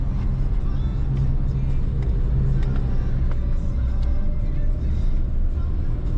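A car cruising on an Indonesian toll road toward Bandung gives a steady low engine and tyre rumble heard from inside the cabin, continuous and fairly loud, with faint occasional clicks.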